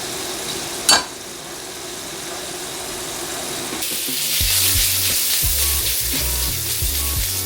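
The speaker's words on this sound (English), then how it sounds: "we're going to go ahead and drop in all those sausage pieces" Sausage pieces drop into hot olive oil in a pan and start sizzling, a soft hiss at first that turns into a louder, steady frying crackle with some stirring, close up and with no talk.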